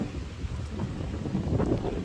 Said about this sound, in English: I know it's very windy.